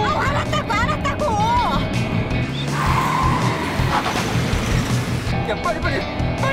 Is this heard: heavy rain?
no